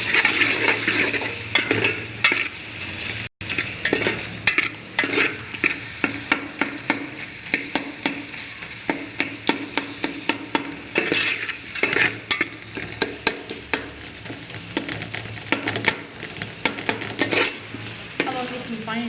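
Whole spices, garam masala, black cardamom and turmeric frying and being stirred in a pan for Kashmiri aloo biryani, giving a steady close sizzle with repeated scraping and clinking of the spoon throughout, no voices.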